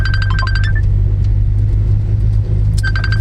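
A car engine rumbles low and steady under acceleration during a driving lesson on curvy park roads, close and continuous, with short electronic beeping tones at the start and again near the end.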